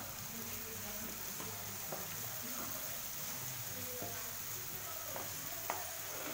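Vegetables frying in a pan for chana masala with baby corn: a faint, steady sizzle with a few soft clinks scattered through it.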